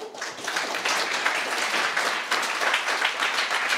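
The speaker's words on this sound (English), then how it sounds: "So let's give another round of applause to our host, to Voodoo" An audience at a tech conference talk claps steadily, a dense run of applause that holds its level throughout.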